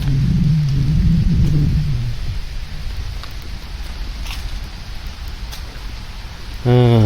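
Light autumn rain falls at the gates of a large cemetery park in Germany, a steady soft hiss that runs throughout. A low rumble sits under the early part, and a brief tonal hum rises at the very end.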